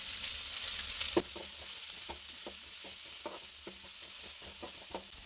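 Ginger garlic paste and coconut pieces frying in a pan for Kerala-style chicken curry, a soft steady sizzle with spoon stirring scrapes ticking in a regular rhythm.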